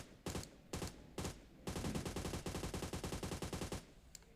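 Rapid gunfire in the mobile shooter PUBG Mobile: three separate loud single shots, then a sustained automatic burst of evenly spaced rounds lasting about two seconds, with no talk.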